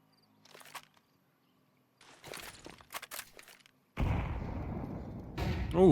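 A loud grenade blast in a competitive online shooter match bursts in midway and rumbles on to the end, following scattered softer game effects and bits of background voice.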